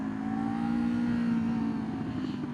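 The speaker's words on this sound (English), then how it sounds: "pull in the clutch, let go of the throttle, and kick down into 1st, and slowly release the clutch and add throttle again" Motorcycle engine running steadily, a continuous mid-pitched drone that rises slightly in pitch as the rider shifts down into first gear and eases on the throttle, close and fairly loud throughout.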